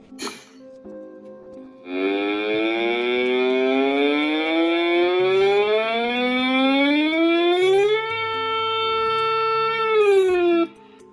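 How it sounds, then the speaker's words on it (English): A loud wailing siren rises slowly in pitch, holds a high steady tone, then drops off sharply; a brief low sound comes before it starts. The siren is played by a Uniden Bearcat BC248CLT radio. "the siren on this thing is loud and effective, but it's incredibly annoying"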